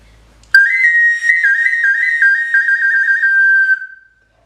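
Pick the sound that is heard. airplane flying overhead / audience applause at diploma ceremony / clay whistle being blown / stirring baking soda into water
clay whistle being blown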